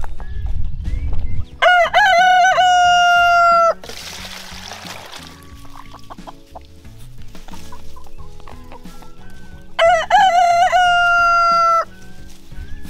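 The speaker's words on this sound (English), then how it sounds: "let's go ahead and take this and feed it to the chickens." Backyard chickens cluck steadily while a rooster crows loudly twice, once near the start and again near the end, as food scraps are tossed to them outdoors.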